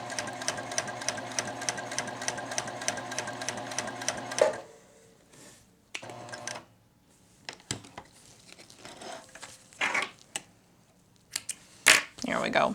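Juki TL-2010Q semi-industrial sewing machine hand cranked, giving a steady run of rapid, evenly spaced mechanical clicks and thumps for several seconds, then scattered handling knocks and rustles with pauses.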